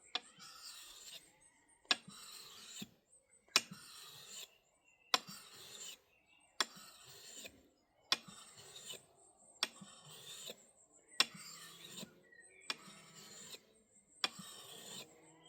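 An axe or knife blade is drawn across a sharpening stone in ten separate strokes, each a short gritty scraping rasp with a pause between, close and fairly quiet, with no talking.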